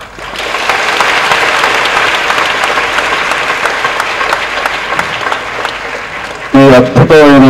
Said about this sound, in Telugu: ఈ అద్భుతమైనటువంటి ఉపన్యాసానికి చప్పట్లు చాలు